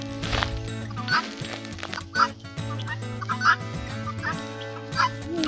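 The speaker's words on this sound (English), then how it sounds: "Here's some chickens." Several chickens calling close by, with clucks and gobbling bursts spread across the stretch over a steady background hum.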